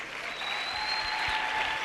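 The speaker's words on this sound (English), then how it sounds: "let's give him another round of applause" Round of applause for a bishop at a youth empowerment week event: steady crowd clapping at moderate loudness throughout, with a faint sustained tone underneath.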